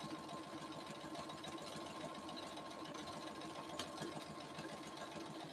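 A sewing machine stitches a quarter-inch seam with lined-up fabric edges, a steady mid-level mechanical hum and whir running continuously without pause and no voices over it.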